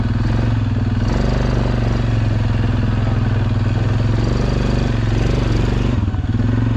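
A Suzuki King Quad 750 ATV engine runs steadily and loud at close range during a sharp turn on a mountain-top ride, with a constant throaty drone and a brief dip in pitch as it slows.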